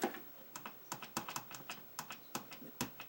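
Close, quiet typing on a Commodore 64 keyboard under repair, a steady run of clicky keystrokes in uneven bursts with short gaps.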